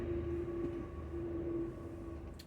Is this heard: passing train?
yes